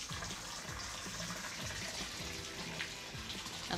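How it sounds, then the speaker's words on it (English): Water runs from a Delta T17T series shower tap in a steady, moderate splashing flow, with faint repeated clicks or squeaks under the stream. "And then I'm gonna turn our water on."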